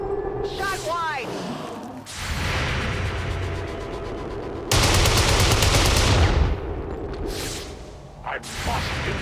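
Gunfire in XCOM 2 cracks out in loud bursts, with a sustained heavy volley in the middle and shorter blasts around it, mixed with game effects.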